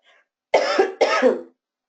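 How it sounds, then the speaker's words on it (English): Two harsh coughs in quick succession, close and fairly loud, preceded by a faint breathy sound and followed by silence. "I may have to stop just to do a little bit of coughing"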